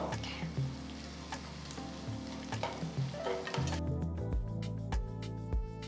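Onions with green chillies and curry leaves sautéing in a pan, a close, continuous sizzle broken by repeated scraping stirs, growing louder and crackling harder toward the end.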